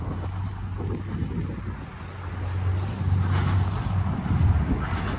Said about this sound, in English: Like I said, it is windy today, so we have to be careful of that.